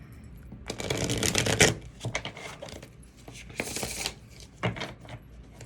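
Love Oracle cards being shuffled: several bursts of crisp papery riffling and clattering, close and fairly quiet, with short pauses between bursts.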